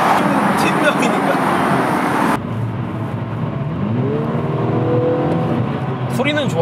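A MINI 3-door John Cooper Works in sport mode roars loudly up close, then drops to a quieter revving drone with a rising engine tone and scattered exhaust crackle. A voice talks over it.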